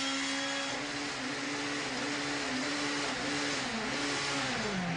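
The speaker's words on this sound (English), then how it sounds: "The rev counter goes off the clock as he gets a box full of neutrals." A 1994 British Touring Car Championship race car engine over-revs after a missed gear change, a loud, sustained onboard wail that holds a high pitch, wavers, and then sweeps further upward, with no talking.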